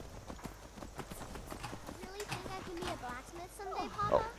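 Horse hooves clip-clop in Skyrim, a modded playthrough, a steady quick rhythm of light thuds under a voice talking throughout, ending with a brief whinny-like tone near the end.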